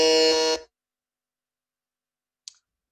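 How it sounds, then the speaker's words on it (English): A quiz buzzer at a young farmers' awards grand final gives one loud, harsh half-second buzz, then silence broken by a faint click. "Are we good with buzzers?"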